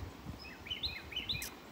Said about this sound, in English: You might hear the birds in the background.